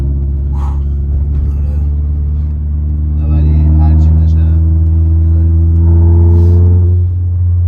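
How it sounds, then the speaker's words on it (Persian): Car engines in road traffic rumble steadily, swelling louder mid-clip as a vehicle revs close by, with people chatting over the noise. "اوه ترافیک"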